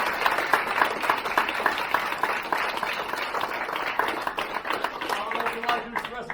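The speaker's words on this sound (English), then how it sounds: "Everybody give them a round of applause." An audience at a black belt martial arts ceremony gives a sustained round of applause, many hands clapping steadily for several seconds, with some voices mixed in near the end.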